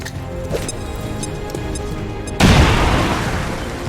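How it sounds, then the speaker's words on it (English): A grenade explosion in the video game XCOM 2: a sudden loud broadband boom that bursts out after a few seconds of quieter game sounds, then slowly decays. "Throw grenade!"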